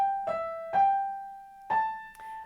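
A piano plays bar 7 of a beginner piece, with a few single notes struck one after another, each ringing and fading, close and alone with no talking.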